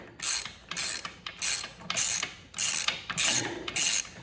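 A hand ratchet clicks as it works the nut and washer off a Honda CB77 Super Hawk 305 engine: seven evenly spaced, close bursts of sharp ratcheting, each about half a second long.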